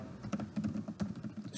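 Quick typing of Python code on a computer keyboard, a steady patter of light key clicks at close range with no voices.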